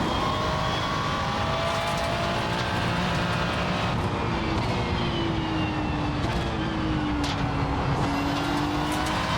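GT3 race cars lap the Nürburgring Nordschleife in the iRacing simulator, with a continuous loud engine drone and shifting pitch sweeps as cars rev and pass, steady throughout with no talking.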